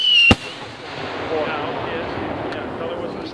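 Multi-break aerial firework shells at an outdoor show on Hay Lake, Minnesota: one sharp, loud burst near the start, followed by a long crackling, rumbling tail with a faint later pop, and no speech over it.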